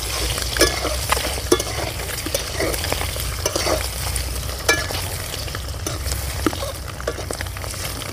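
Eggs frying with turmeric in a pan for egg curry, a close, continuous sizzle with repeated sharp scrapes and taps of a spatula stirring, without any talk.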